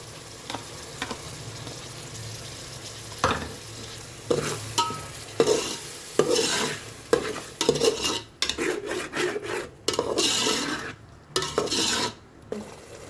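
Tomatoes frying in a pan over high flame for an egg curry, a continuous close sizzle punctuated by repeated scraping and stirring strokes and light clinks of a utensil against the pan.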